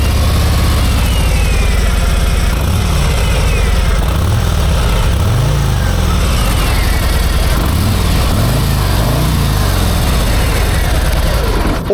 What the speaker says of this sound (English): at the lights and give it a bit of a rev, you can hear there's definitely some potential